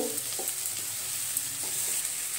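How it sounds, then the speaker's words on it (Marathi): Cauliflower and potato pieces stir-fried in a pan, a steady hiss of sizzling oil with a few soft scrapes of a spatula mixing the vegetables, close and continuous. "तोही आपण त्यामध्ये परतून घेऊ। फ्लावर आपण मीडियम आकाराचा कापून घेतलेला आहे। आता सर्व आपण मिक्स करून घेऊ।"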